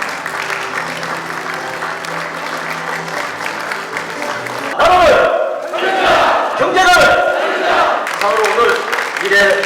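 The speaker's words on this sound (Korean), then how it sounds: "다시 한번 큰 박수를 부탁드립니다." Crowd at a political joint declaration ceremony breaks into applause and shouting, first a softer mixed murmur and clapping, then a louder surge of cheering and chanting in the second half.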